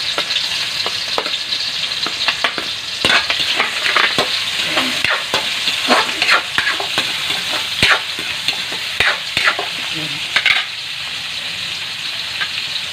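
Garlic, onion and pork for a cabbage roll filling sizzle steadily in a hot pan, with a constant bright hiss broken by repeated scraping and stirring clicks, close and alone without talk.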